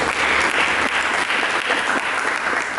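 Steady, dense applause from a large church congregation during a sermon, loud and continuous throughout with no pauses.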